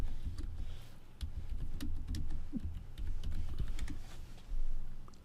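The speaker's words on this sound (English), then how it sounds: "will type string name equals to Saad" Rapid keystrokes on a computer keyboard while entering C# code, a steady, close run of irregular clicks and taps with no voice over them.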